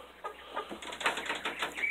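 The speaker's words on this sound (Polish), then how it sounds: "Kura na gnieździe." A hen sitting on its nest gives soft, repeated low clucks and murmurs close by in a quiet barn, with a faint steady background hum.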